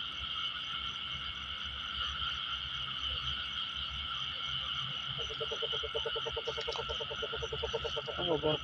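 A chorus of frogs croaks under a constant buzzing insect background, and a rapid, rhythmic run of nearby croaks starts about halfway through and continues to the end.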